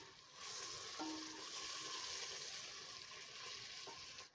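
Boiled meat sizzles and fries in garlic ginger paste, a faint, steady hiss with a brief clatter as it is added to the pan.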